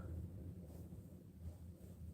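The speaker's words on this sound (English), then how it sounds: "it's getting a little windy" Wind blows across a frozen lake at Callander Bay on Lake Nipissing in February, a steady low buffeting rumble against the microphone, faint and unbroken, with no voices.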